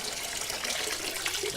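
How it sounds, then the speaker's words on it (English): Rinse water drains out of a machine being cleaned before disassembly, a steady, close rushing and gurgling flow with no pauses and no voices. "Let all that water drain out."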